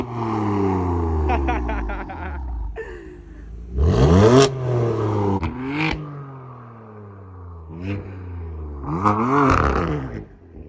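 A BMW M4 F8X with an AWE Tuning exhaust, valves open, revs in several sharp bursts, each rising quickly and falling back to a burbling idle, loud and close, with no talking.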